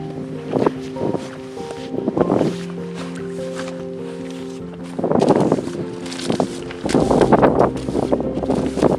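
Cold wind sweeps across open terrain on King George Island in Antarctica, gusting and buffeting the microphone in uneven bursts, with a low drone and rumbling surges that build toward the end.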